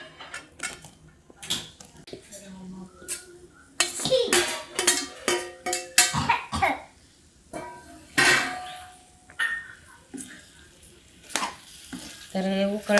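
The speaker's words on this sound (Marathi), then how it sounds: "आता हे उकडलेले आवळे टाकत आहे." Boiled Indian gooseberries (amla) tipped into sugar syrup in a pan for amla pickle and stirred, giving intermittent clatter and scraping with light sizzling, close and fairly loud, while a child and an adult talk at times.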